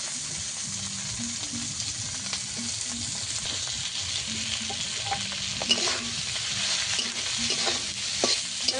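Drumstick leaves stir-fried with onion in a pan for a leafy Bengali dish, a steady sizzle broken by repeated scraping strokes of a spatula, close and continuous with no voices.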